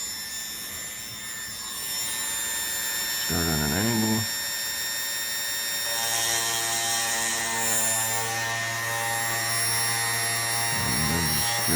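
Rotary drill grinding into a labradorite stone cabochon held by hand, a steady whining buzz with strong tonal lines running through, breaking off briefly; a voice speaks over it now and then.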